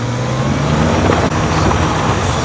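A Honda Integra Type-R engine being gunned, a brief, loud, close roar of acceleration lasting a couple of seconds.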